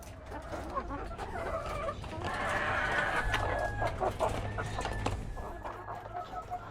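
Backyard coop of about 25 young hens that are not yet laying, clucking steadily at close to middle distance over a continuous rustle of farmyard background, with a longer cackle drawn out near the middle.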